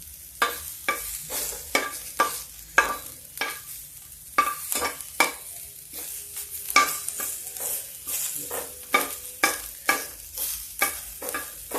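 Whole masoor dal is dry-roasted in a pan, with a ladle scraping and stirring in a steady rhythm of sharp rasping strokes about every second over a faint background hiss.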